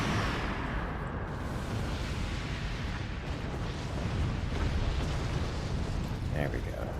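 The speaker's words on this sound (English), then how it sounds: "we've got the atom cannons online." Atom cannons fire in the Forts real-time strategy game, a dense, rumbling barrage of booming blasts that keeps going throughout, loud and unbroken.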